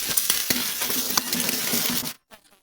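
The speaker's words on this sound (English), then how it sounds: "He skewers large chunks of marinated beef and roasts them over the fire until they sizzle." Skewered chunks of marinated beef sizzle and crackle loudly over an open fire with sharp pops scattered throughout, then the sound cuts off abruptly near the end.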